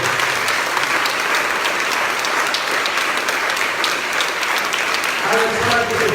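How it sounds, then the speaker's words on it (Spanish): Sustained applause from a church audience during a religious inner-healing workshop, dense steady clapping throughout, with a voice joining near the end. "Vamos a darle un fuerte aplauso a Jesucristo"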